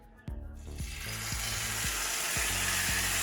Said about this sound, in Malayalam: ഇനി നമുക്ക് ചിക്കൻ പയ്യെ ഒന്ന് റോസ്റ്റ് ചെയ്തെടുക്കാം